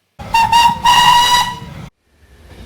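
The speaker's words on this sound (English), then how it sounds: "Beep, beep, whistled James" A loud steam train whistle blows in two short bursts followed by a longer sustained blast, with hissing steam beneath, then fades to quiet.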